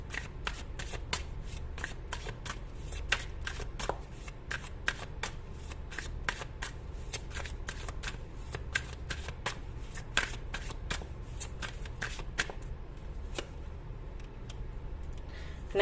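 A tarot card deck is shuffled quietly and continuously, giving a long run of crisp, rapid card slaps and flutters that repeat steadily at close range.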